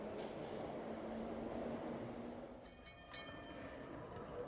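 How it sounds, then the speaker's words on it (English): An underground train passes steadily, its low rumble and rail noise running throughout, with brief squealing wheel or brake tones partway through. "Some people go by underground."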